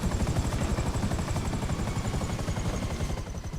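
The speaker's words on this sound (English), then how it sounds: "let's get away from the helicopter before this one explodes" Helicopter in GTA 5 Online, a loud, close rotor chop that beats rapidly and steadily throughout with a constant engine whine above it, fading slightly at the end.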